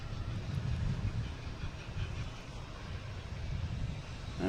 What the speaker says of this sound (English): we got a JetBlue coming in from Nantucket